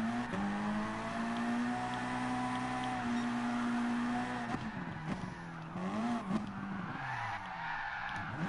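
Car engine droning at steady pitch in Gran Turismo Sport, then wavering and dipping as the car drifts with squealing tires, moderately loud, with no talk.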